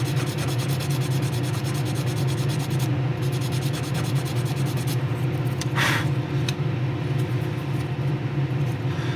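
Steady abrasive rubbing as a Gundam plastic model part is sanded to remove gate marks, continuous and close with an even scratchy texture and a brief sharper scrape partway through.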